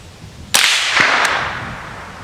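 A suppressed pistol shot using Federal 1260 fps supersonic ammunition, fired once outdoors: a single loud, sharp crack with a bright, slightly higher-pitched snap, followed by a short decaying tail, with no talking over it.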